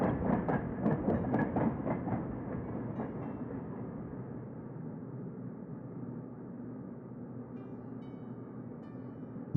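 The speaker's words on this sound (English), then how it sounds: "our secondary train is now coming through" A train in a rail dispatch management game rumbles past on the tracks, with rhythmic clicking early on that fades into a steady rolling drone, heard alone without talk.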